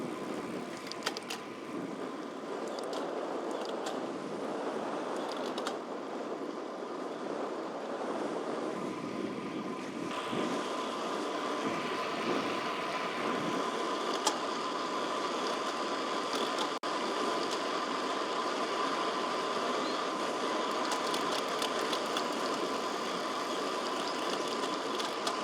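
A Shimano XTR rear derailleur on a road cassette produces a steady drivetrain whir, with a couple of sharp, clunky shift knocks standing out partway through.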